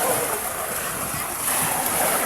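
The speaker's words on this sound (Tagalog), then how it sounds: "Malakas na alon oh." Strong sea waves during rough weather on a fishing trip, a continuous loud wash of surf and splashing water with no pause.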